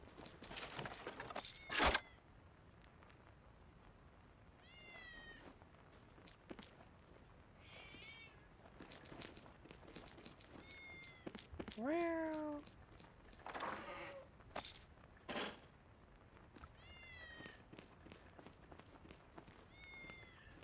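Cats meowing in the video game Icewind Dale 2: repeated short and longer meows come at intervals, one louder wavering cry in the middle, with footsteps, sharp clicks and other game effects between them.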